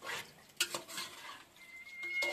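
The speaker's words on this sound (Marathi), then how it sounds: "1 मिनिट याला पूर्णपणे एकदम मिक्सअप करून घ्यायचं आहे" Village-style free-range chicken is stirred in a cooking pot over a wood-fired stove, Agri Koli style, giving close scraping and clinking of utensil against metal in short bursts, with a soft sizzle underneath.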